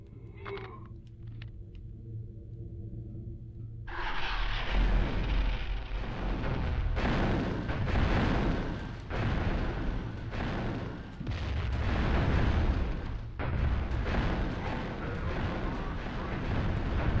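Rapid gunfire in Warhammer 40K Fire Warrior rattles in dense repeated bursts after a quieter opening, loud and sustained with short gaps between volleys.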